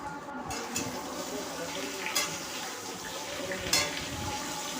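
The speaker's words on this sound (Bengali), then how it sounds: "এবার আলুগুলোকে ভালো করে ভাজতে হবে।" Potatoes fry in oil with panch phoron in a wok, giving a continuous close sizzle with occasional louder spits and stirring clatter.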